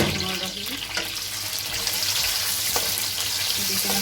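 Vegetables for a chicken jalfrezi garnish fry in oil with a dense, steady hissing sizzle, broken by occasional louder pops and stirring clatter.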